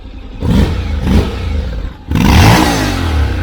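A Honda X-ADV 750 dual-clutch scooter engine revs up close and loud three times, with short blips followed by a longer sustained rev and no talking.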